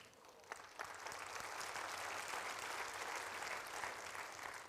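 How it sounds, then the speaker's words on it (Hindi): An audience at a staged play applauds in a dense, sustained wash of clapping, steady throughout and fairly distant. "ये तालियाँ जो हैं ये मेरे लिए नहीं है"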